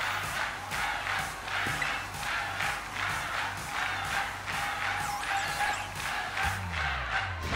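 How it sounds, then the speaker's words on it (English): A loud crowd cheers without a break in the Pokemon Violet video game, at a Montenevera gym battle. The roar holds steady with rhythmic surging chants and has no clear speech. "This crowd's so loud it could wake the dead."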